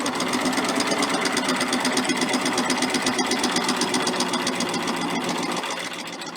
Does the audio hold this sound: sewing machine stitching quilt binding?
yes